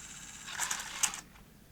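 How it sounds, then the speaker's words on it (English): A 1989 Sony EVS1000E Hi8 video recorder ejects a tape: a short mechanical whir with a couple of quick clicks and clunks lasting about a second, fairly close and moderately loud, with no talking. "Now it's in standby. Let's try eject."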